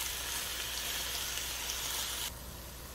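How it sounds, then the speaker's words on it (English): Ground beef, one pound, sizzles steadily in a pan on the stove, a dense hiss of frying that stays close and even, dropping slightly softer near the end, with no talking. "Adding 1 pound of ground beef. Now I'm going to let this cook up for a while."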